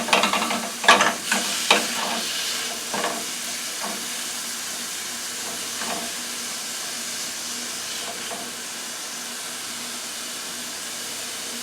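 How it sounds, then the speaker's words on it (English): Peppers and onions fry in oil for a meat sauce, a steady soft sizzle running throughout with a few sharp stirring clatters near the start and scattered quieter scrapes later, no voices. "And peppers and onions is cooking along just fine."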